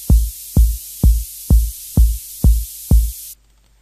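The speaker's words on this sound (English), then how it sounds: "all I got is just a kick, kind of a minimal house one, and then I got some white noise." Minimal house kick drum programmed in FL Studio pounds seven evenly spaced deep thumps over a steady wash of loud white noise, both cutting off together near the end without sidechaining.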